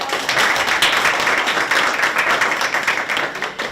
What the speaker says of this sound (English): I think we should all give her a warm applause.